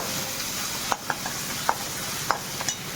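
Coconut roasts in a pan with a soft continuous sizzle, punctuated by several sharp scraping taps of a spatula spaced about every half second to second.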